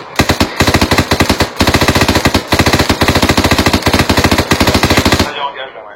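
Sustained automatic gunfire from several weapons crackles loud and close in a military shooting game scene, with long rapid bursts and brief gaps, cutting off near the end.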